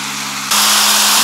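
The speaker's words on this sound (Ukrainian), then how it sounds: "Водограй Багрівець. На струмку Багрівець." A small waterfall on a mountain stream in the Ukrainian Carpathians gives a loud, steady rush of falling water close by that swells abruptly halfway through the brief clip.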